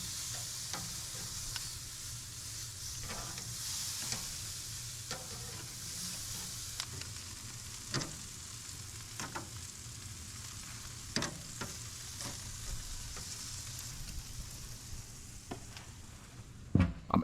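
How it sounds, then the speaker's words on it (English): Thin chuck roast steaks sizzle on a grill in a steady, even hiss that lasts throughout. Occasional small pops and faint utensil ticks sound nearby over the constant frying noise, and nobody talks. "First up, we're grilling the chuck roast steaks."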